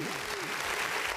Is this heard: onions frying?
no